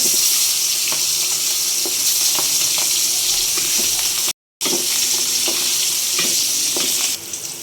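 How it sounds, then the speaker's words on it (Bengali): Hilsa fish frying lightly in hot oil in a wok, a steady close sizzle with soft stirring clicks, cut by a brief silent gap midway; no talking. "মাছটা বেশি কড়া করে ভাজবো না,"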